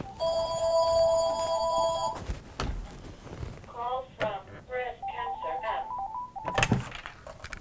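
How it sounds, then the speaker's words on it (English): A telephone rings with a repeating electronic tone for about two seconds, followed by handling thunks and a short melodic ringtone burst, loud and close indoors. "of course the phone rings, and I should have turned off the phone"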